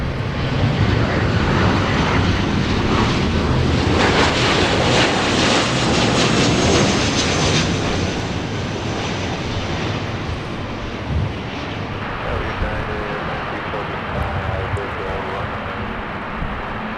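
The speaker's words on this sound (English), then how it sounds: "Can hear the GE90s all the way from up here." GE90 jet engines on airliners at LAX, heard from a distance as a loud, continuous broadband roar that swells and then eases slightly, with faint speech in the background.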